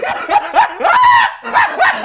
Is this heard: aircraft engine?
no